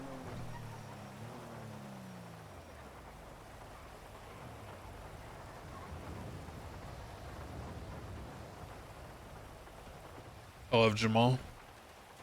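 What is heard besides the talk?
rain in a video game (GTA roleplay)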